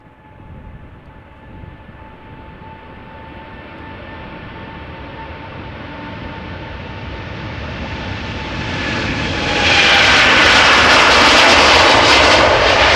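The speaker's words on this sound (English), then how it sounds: "The Dreamliner we are seeing is 7 years old" Boeing 787-9 Dreamliner jet at Amsterdam Schiphol, a steady engine roar building gradually and swelling into a loud, close, broadband blast near the end, with no voices.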